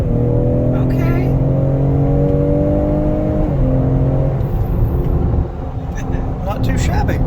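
A Ford Explorer ST engine accelerating, a loud steady drone with rising pitch and a brief shift dip, heard from inside the cabin with engine sound fed through the speakers, and a voice talking briefly near the end.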